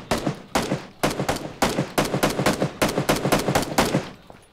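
Rapid bursts of automatic gunfire in PUBG (Battlegrounds), firing from a distance in a competitive match, come as repeated loud volleys of closely spaced shots with brief gaps between bursts and a tail fading at the end, no talk.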